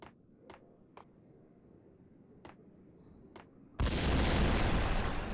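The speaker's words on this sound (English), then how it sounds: "And a whole lot of explosions up there." Explosions in the Max Payne video game: several sharp, distant-sounding bursts scattered over a quiet background, then a loud sustained roaring blast that fills the final seconds.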